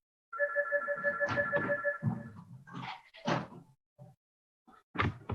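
A telephone rings during a city council meeting, a steady electronic warble that runs for nearly two seconds, followed by scattered knocks and handling sounds and a short pause before more bumps.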